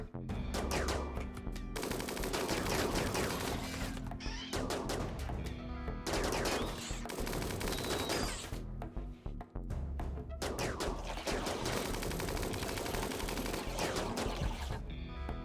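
Rapid bursts of automatic gunfire in the colony game RimWorld crackle in long repeated volleys, broken by brief pauses, loud and continuous with no talking over them.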